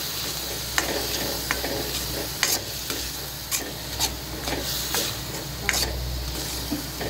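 A utensil stirs fish curry masala with ground coconut and coriander in a sizzling pan, giving repeated scraping strokes and light clinks over a steady frying hiss, close and fairly clear.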